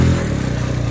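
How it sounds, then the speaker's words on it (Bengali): A motorbike approaches on a mountain road near the Parasnath temple in Jharkhand, its engine a steady, close, fairly loud hum in a brief burst, with no talking. "সো এ দেখো বাইকটা আসছে"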